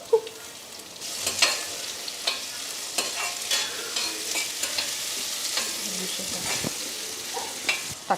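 Small shallots sizzle and fry in sesame oil, with steady crackling and a spoon or spatula stirring and scraping the pan at irregular intervals throughout.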